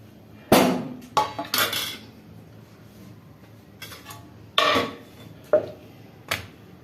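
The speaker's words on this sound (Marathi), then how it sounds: "अशी एक प्लेट घेतली मी." A plate is handled in a home kitchen while making pizza, giving several sharp clinks and knocks of crockery, close and fairly quiet, spaced irregularly with short silences between.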